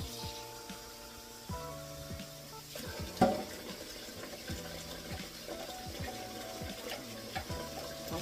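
Hot water pours and splashes into a container of bouillon, followed by light stirring and clinking as broth is made, with quiet kitchen clatter around it.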